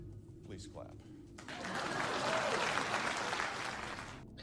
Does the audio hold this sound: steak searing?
no